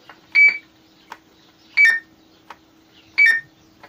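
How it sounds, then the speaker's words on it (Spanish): Roger beep from a CB radio with an Echo Master unit, sounding as three short, clear electronic chirps of two quick tones each, spaced about 1.4 seconds apart, with softer clicks between them over a low steady hum. "cuando dejabas de hablar, la otra persona escuchaba el pip"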